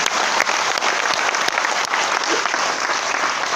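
Audience applause at an RCM business seminar in Bhilwara, Rajasthan: dense, loud, continuous clapping from a large crowd filling the room, steady throughout with occasional sharper individual claps.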